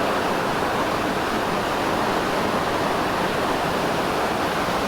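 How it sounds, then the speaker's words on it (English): Eighteen Foot Falls pours in an unbroken, even roar, close and loud, with no voices or other sounds over the steady rush of water. "They call this 18-foot falls"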